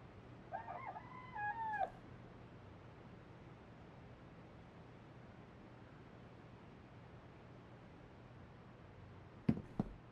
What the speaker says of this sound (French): j'ai vraiment entendu une poule là, donc je m'inquiète